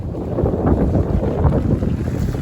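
Strong wind of about 14 knots buffets the microphone on a moving trailer sailer, a steady low roar with gusty rises and faint water sounds beneath.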